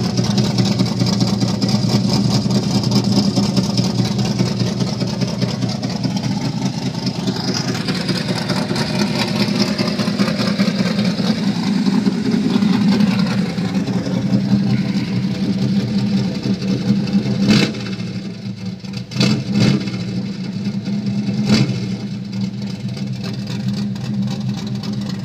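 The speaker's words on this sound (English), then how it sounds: "It's got a nice little lope to it from that cam." A 1973 Chevrolet Monte Carlo V8 with a lopey cam idles nearby in a steady, rumbling drone with an uneven pulse, and a few sharp clicks and knocks sound near the end.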